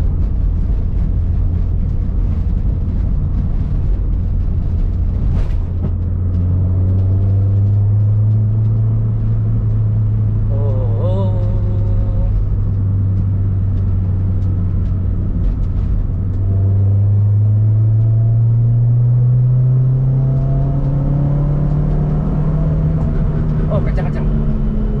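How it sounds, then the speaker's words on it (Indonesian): A Honda Civic Ferio with a 4-1 header exhaust pulls hard in third gear, its loud, deep, bassy engine note rising steadily in pitch over two long accelerations, close to the car, with some talk around it. "Kemudian untuk suara knalpot lebih ngebas karena konfigurasi 41 ini."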